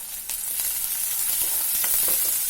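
Garlic-ginger paste hitting hot oil in a pan, a bright, continuous hiss of sizzling with a sharp jump at the start and scattered spits and crackles as it fries, close and alone.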